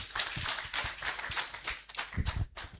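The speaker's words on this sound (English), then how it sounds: "Please give him a round of applause." Sparse, quiet clapping from a small audience at a national forum, a few scattered hand claps with uneven rhythm over a short stretch.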